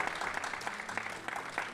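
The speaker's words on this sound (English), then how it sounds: "We didn't even have to pay them to start clapping for us." A live studio audience claps steadily throughout, a dense and continuous patter of many hands at moderate volume with no talk over it.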